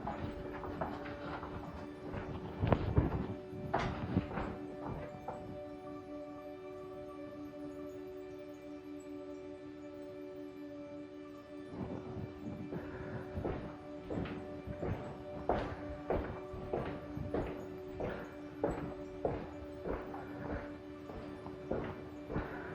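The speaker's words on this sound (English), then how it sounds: "you can hear my noisy footsteps and heavy breathing" Footsteps echo through a rock tunnel at Vimy Ridge, a steady run of sharp, hard taps with a ringing reverberation, loud and close, pausing briefly midway before the walking resumes.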